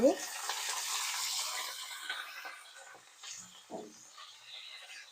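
Onions and green chillies fry in hot oil while being stirred in a pan, with a loud, continuous sizzle and scraping that eases off partway through. Occasional spoon knocks sound close by, with no talking.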